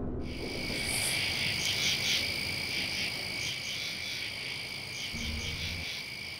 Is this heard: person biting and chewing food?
no